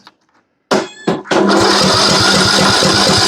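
A Troy-Bilt riding mower engine cranks in two short bursts, then catches and settles into a loud, steady running chug after a near-silent start.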